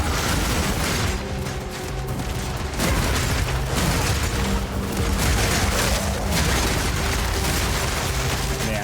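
Spear fields explode in Path of Exile 2 while the character keeps running, a continuous dense rumble of booms and bursts layered with mechanical combat noise and tonal game effects.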